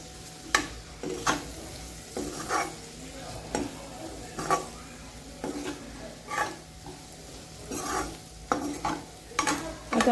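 Spatula stirring red chili powder into tawa pulao in a pan, with repeated scraping strokes over a steady background sizzle, close and moderately loud, no talking.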